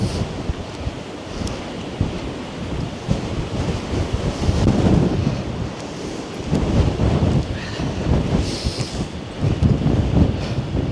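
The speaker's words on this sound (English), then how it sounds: "It is windy." Strong gusting wind sweeps a Manhattan street near the High Line in March, roaring and buffeting the microphone in loud, continuous waves that swell and ease.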